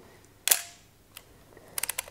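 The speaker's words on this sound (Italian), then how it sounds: "vi faccio sentire magari un po' eh, il suono dello scatto faccio sentire il 4 millesimo" A Nikon FM2n's mechanical shutter fires at 1/4000 second with one sharp, close click, followed by a quick run of smaller ratcheting clicks from the film advance lever in an otherwise quiet room.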